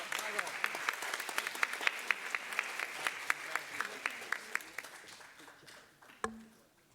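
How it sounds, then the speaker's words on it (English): Audience applause at a school district students-of-the-month ceremony, a scattered crowd clapping with distinct individual claps that taper off, fairly quiet and distant, followed by one sharp knock. "give another round of applause for Mr. Michael Babeshkov."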